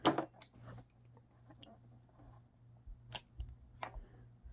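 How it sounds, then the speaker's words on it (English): Lengths of wire are snipped for a homemade velostat and copper foil flex sensor, a few crisp, close cutter clicks separated by quiet pauses and light handling noise. "what I'm going to do is just cut a couple lengths of wire here"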